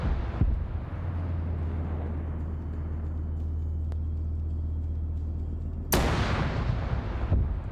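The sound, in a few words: two cannons firing in a video game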